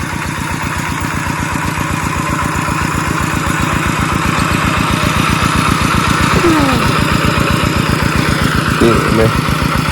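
An old farm tractor used for rice-field plowing, low on engine oil, runs up close with a loud, steady, rapid thumping beat that holds throughout, with faint voices in the background.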